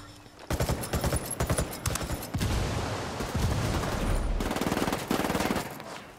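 Video game gunfire crackles in loud, rapid automatic bursts, with dense volleys and brief gaps, heard up front without talking.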